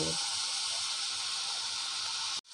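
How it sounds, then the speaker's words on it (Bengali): Grated coconut cooks with date palm jaggery in a hot pan, an even, steady hiss with no rhythm that cuts off abruptly just before the end. "নারকেলটা সুন্দর করে ভাজা ভাজা করে নেব"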